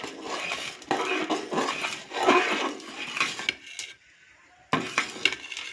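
A spoon stirs milk and sago in a cooking pot on the stove, scraping and clinking against the metal in busy, close bursts, with a short quiet pause before the stirring resumes.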